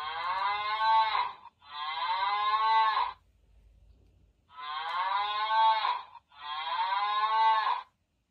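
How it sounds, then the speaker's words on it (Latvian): A cow moos four times in two pairs, long and steady calls near and loud, with a short quiet gap between the pairs. "Meklējam teliņu,"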